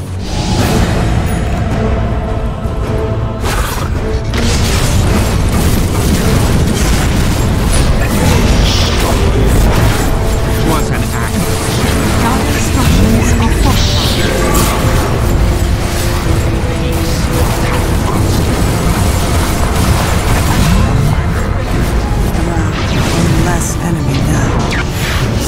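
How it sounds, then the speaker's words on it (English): A Dire tower in Dota 2 under sustained attack: repeated booms, crashes and whooshes pile up into a loud, continuous battle din, with voice announcements running over the top. "Dire's top tower is under attack."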